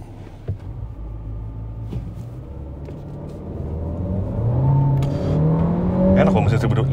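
A Chery Tiggo 8 Pro Max 2023 engine rumbles and then accelerates, its pitch climbing and growing louder over the final seconds, close by.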